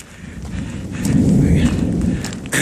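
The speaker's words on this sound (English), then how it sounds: "between this set of thunderstorms, which are moving in on me. It's raining pretty steady now" Steady rain falls on a Pacific Crest Trail section near Sierra City as thunderstorms move in, a continuous broadband hiss with low rumbling swelling through the middle, close and fairly loud with no talk over it.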